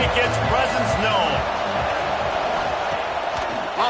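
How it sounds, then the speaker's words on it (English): Stadium crowd noise from a Madden football video game swells as a broad, continuous roar beneath a commentator's voice, with muffled thuds and scattered cheers in the mix. "This crowd ready to make its presence known"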